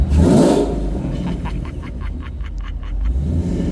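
A Ford Coyote V8 in a late-model Mustang, boosted, free-revs loud and close: a throaty burst that drops into a rumbling idle, then a run of quick, stuttering blips, then a rise again.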